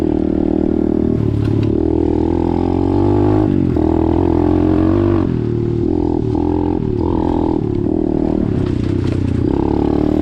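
An Apollo DBX15 Chinese pit bike engine drones loud and close while being ridden, its pitch rising and falling with throttle changes and rattly clatter over rough ground.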